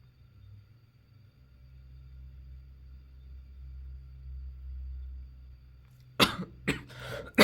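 A few sharp, loud coughs burst out near the end after a long stretch of low rumbling background, with no talking around them.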